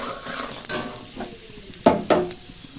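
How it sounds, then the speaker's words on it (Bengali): Panch phoron spices hitting hot oil for a raw mango pickle, a brief crackling sizzle mixed with a few sharp clinks of utensils against the pan, moderately close. "আর এখন কিন্তু আমি 5 ফোড়ন দিয়ে দিচ্ছি।"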